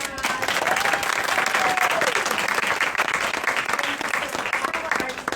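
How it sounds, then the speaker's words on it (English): Steady audience applause, dense clapping from a crowd that holds at full strength for several seconds with some murmuring voices underneath. "we'll just give her a great round of applause"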